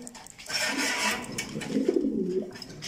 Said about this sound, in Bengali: আমার লফটের কিছু ব্রিডার কবুতর